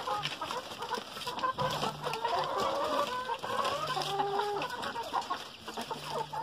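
Farm chickens and a rooster cluck continuously and close up, a busy chorus of overlapping calls at steady loudness with no speech.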